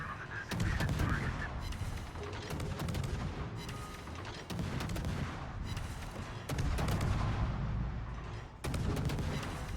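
Naval artillery fire from warships in a World of Warships battle, heavy booming salvos and rumbling blasts repeating every couple of seconds, loud and dense with no one talking.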